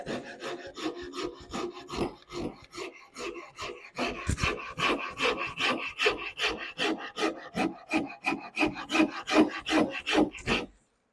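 Steady rasping of a wood rasp on a carved wooden neck as the edge bevel is widened: about two dozen rhythmic push strokes, close and fairly loud, growing a little brighter and heavier partway through, with no voices.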